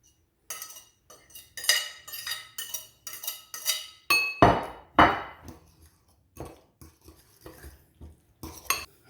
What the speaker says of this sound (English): Chuck everything in a bowl and mix away.